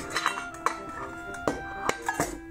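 Small metal camping cooker pots, a 475 cc pan nesting with a 1.1 litre pot, clinking as they are stacked around a 110-size gas canister, with several light metallic taps and clanks close by.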